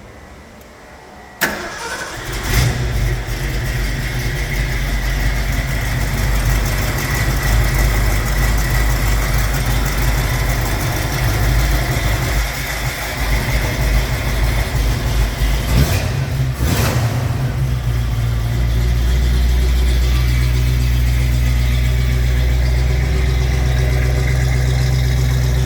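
A 1974 Ford Bronco with a three-on-the-tree manual transmission cranks and fires on a cold start, then settles into a loud, close, rumbling idle with a couple of brief blips partway through.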